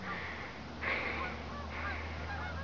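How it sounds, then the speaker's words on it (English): A flock of Canada geese honks in the distance from over a boat, with a few scattered calls that rise briefly and fade over a steady low background hum. "You can probably hear them, but can you see them? A flock of Canada geese going down to the U.S."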